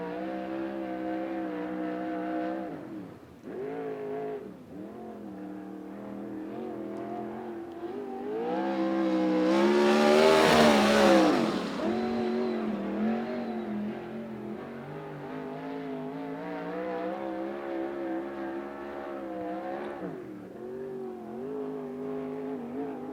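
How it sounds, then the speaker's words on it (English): A USAC Southwest race car runs a qualifying lap at Central Arizona Speedway. Its steady engine drone swells into a loud, close pass near the middle, then settles back to a sustained roar as it continues around the track. "As now the 11C car of Michael Curtis will take his turn at it."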